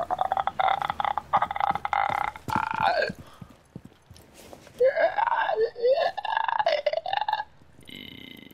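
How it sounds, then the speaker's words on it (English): A clicker enemy in Rainbow Six Extraction lets out several gurgling, croaking burps in bursts, fairly loud and close, with brief pauses between them. "When a clicker burps"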